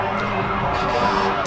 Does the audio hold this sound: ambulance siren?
yes